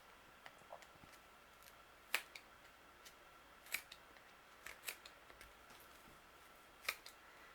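Scissors snip yarn to trim a pom pom, giving quiet, sharp, irregular clicks spaced about a second apart against a low hush.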